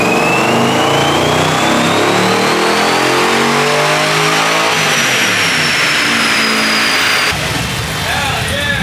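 An LS1 V8 swapped into a Nissan 300ZX revs hard on a dyno, a loud close roar climbing steadily in pitch for several seconds before cutting off abruptly into a rough, lower idle.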